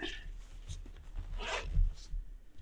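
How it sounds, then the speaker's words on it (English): A few short zipper pulls at close range closing a Think Tank Speed Changer V3.0 camera case, with quiet rustling between the strokes and no talking. "And it has 2 zippers on this side."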